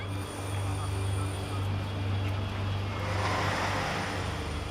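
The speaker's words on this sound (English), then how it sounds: "A brand new Boeing 787 Dreamliner makes an emergency landing." A Boeing 787 Dreamliner in trouble during an emergency landing at Takamatsu, Japan, heard as a steady, moderately loud aircraft engine roar that holds through the whole stretch.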